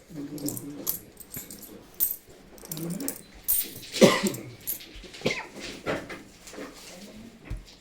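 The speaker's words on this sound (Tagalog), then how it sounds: "Ah, puro barya." Coins are handled during a Tong-its card game, giving scattered metallic clinks and jingles at irregular intervals, with soft handling noises between them.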